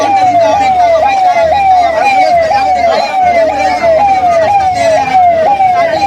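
An ambulance siren wails close and loud in a fast, repeating rising-and-falling cycle as the vehicle passes through a strike blockade during a Bharat bandh shutdown, with road and engine rumble underneath.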